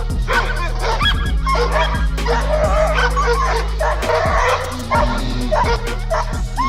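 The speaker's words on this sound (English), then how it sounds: "the dogs freaked out by a polar bear showing up in their town" Several town dogs bark and yip excitedly at a polar bear, loud and close, in repeated overlapping bursts over a steady low hum.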